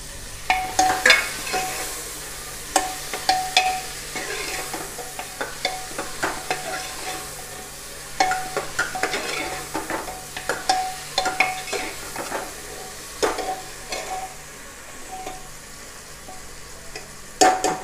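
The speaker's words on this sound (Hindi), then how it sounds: "थोड़ी देर मसाले को पकने देंगे।" Masala with turmeric and tomatoes sizzles in a pressure cooker while a spoon scrapes and stirs it in irregular bursts, close and moderately loud, with no talking.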